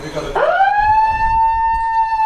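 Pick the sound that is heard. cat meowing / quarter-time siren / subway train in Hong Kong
quarter-time siren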